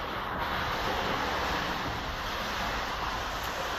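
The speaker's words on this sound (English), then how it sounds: "It's the sound of the river running through the bottom floor." Floodwater from a river near the Gulf of Mexico rushing through the flooded ground floor of a house, a steady, loud broadband roar of churning water that stays constant throughout with no pauses and no voices.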